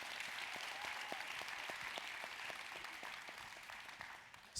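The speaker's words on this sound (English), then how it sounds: "please give them a big round of applause" A panel audience at a national summit gives a round of applause, a fairly quiet, even wash of many hands clapping that carries on for several seconds from some distance.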